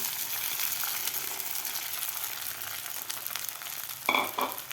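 Sabudana frying in ghee together with cashews, almonds, pistachios, peanuts and coconut, giving a soft continuous sizzle with a few sharper stir scrapes toward the end.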